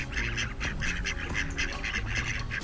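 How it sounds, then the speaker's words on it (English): Ducks quack in a steady, overlapping chorus by a lake at Magelungen in Stockholm. Many birds sound close together with rapid repeated calls and no talking. "Oh, the attack of the ducks!"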